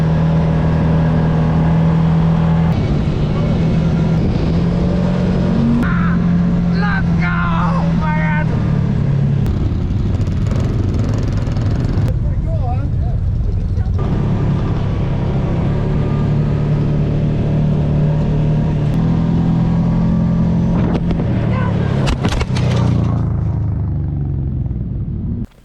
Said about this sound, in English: Just finished up our ATV tour.